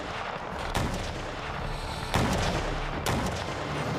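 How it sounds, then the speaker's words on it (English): Artillery shells pound a city's walls during the Napoleonic siege of Ulm, with a dense continuous roar broken by three heavy booms at spaced intervals. "a bombardment of artillery shells at the city's walls"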